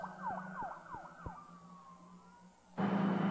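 A city fire engine from Engine House Number 14 sounds its siren answering an alarm, rapid rising-falling yelps with horn blasts, then one long falling wail before a loud rumbling surge of the truck's engine close by.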